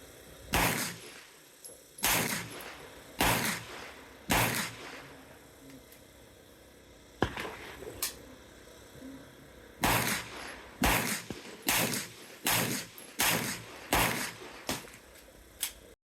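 Shots from a prototype 9mm direct blowback pistol at a range, sharp loud reports in quick bursts of two to four with pauses between, including a break for a magazine change.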